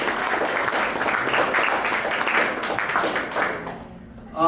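Audience applause at a client care program event, steady dense clapping from a crowd that fades out near the end as a voice begins.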